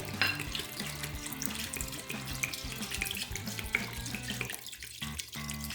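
Running water splashes steadily from a tap into a cooking pot, a continuous rushing stream with faint clinks, fairly close, no talking.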